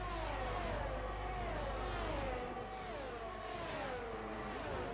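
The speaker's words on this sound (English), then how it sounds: "Formula 1 cars at Australia." Formula 1 cars race in F1 22 at the Australian circuit, with a steady high engine whine that rises and falls as the cars shift gears, continuous and fairly loud with no talk.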